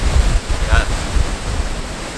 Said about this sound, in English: It's a waterfall. It's pretty epic.